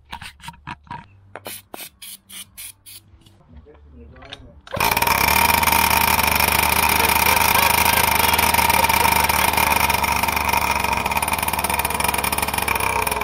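Small engine on a motorized go-kart, sprayed with brake cleaner in the air filter, sputters in a few uneven bursts, then catches and roars into a steady, loud, buzzing run for the remaining eight seconds.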